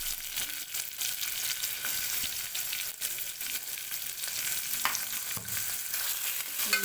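Chopped onions and green chillies frying in hot oil make a dense, steady hiss and crackle, with occasional stirring scrapes, close and continuous without talk.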